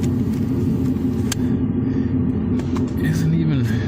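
A 2013 Ford F150 XLT pickup, one with a no-crank, no-start fault, idles nearby with a steady low rumble and a droning hum that wavers slightly, while a voice talks over it.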